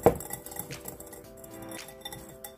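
Flour and baking powder stirred together in a bowl for vanilla cupcakes, a utensil scraping and clinking softly against the bowl in quick irregular strokes, fairly faint and close.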